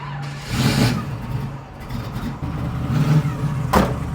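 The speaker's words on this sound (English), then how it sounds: "let's fire it up. You can hear that loud fuel pump." A car engine cranks and fires up, then idles with a rough, throaty note while a loud fuel pump whines close by, with a brief sharp burst near the end.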